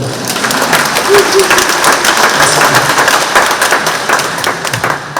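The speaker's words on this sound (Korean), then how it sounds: "격려의 박수 한번 쳐주십시오" An audience at a prayer meeting gives loud, sustained encouraging applause, many hands clapping at once in a thick, continuous roar that holds steady throughout.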